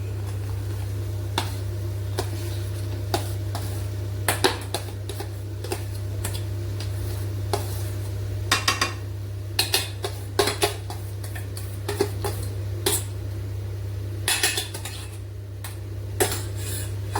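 A spoon clinks and scrapes against a pan while boiled potato is stirred into masala, giving light irregular taps over a steady low hum.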